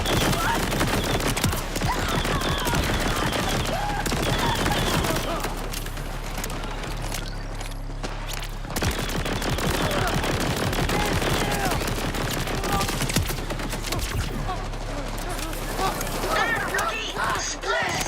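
Sustained gunfire rattles through a Borderlands 4 firefight, dense automatic bursts and shots layered continuously over game music and effects, with a voice talking over the action.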